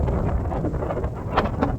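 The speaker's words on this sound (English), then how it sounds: "It's kind of windy, so I hope you can hear me." Gusty wind buffets the microphone outdoors on the Pacific Crest Trail between Walker Pass and Cottonwood Pass, a low rumbling roar that swells and dips irregularly throughout, with no voice heard.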